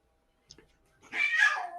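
A house cat meows indoors, a single drawn-out call after a brief soft noise, fairly close and clear with no talk over it.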